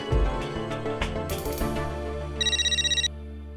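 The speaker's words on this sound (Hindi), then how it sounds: "मैं भी कोमल भाभी को फोन करती हूँ।" A telephone ringing indoors in a sitcom household, a rapid electronic ringtone trill in a short burst over a sustained background music bed.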